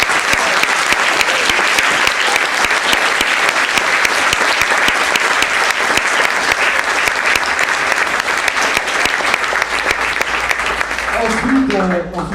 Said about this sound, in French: On peut vraiment les applaudir, il faut que ça résonne dans tout le monde.